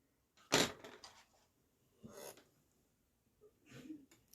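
A single sharp, close sneeze bursts out in a quiet room, followed by a couple of softer breaths and faint movement.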